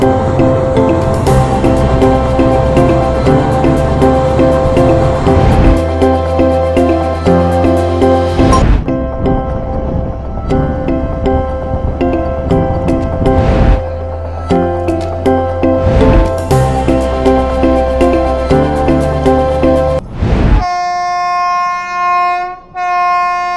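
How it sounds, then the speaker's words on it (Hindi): Amrapali Express passenger train rolling in loud and close, a steady rumble of wheels and carriages with clanks, ending in a long sustained two-tone horn blast. "फाइनली दोस्तों ट्रेन आ गई है"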